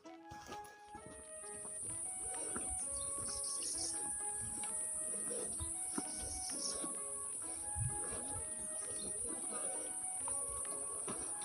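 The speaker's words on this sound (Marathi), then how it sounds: "पाण्याचा आवाज आणि पक्ष्यांचा आवाज" Birds chirp and call repeatedly over a steady wash of flowing water at Prabalgad fort, with scattered knocks and rustles nearby.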